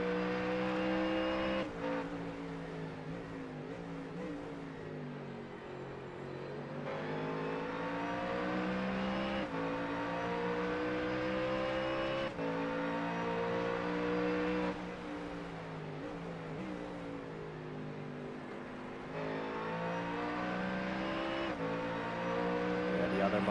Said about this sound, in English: Mustang is pretty much flat out there.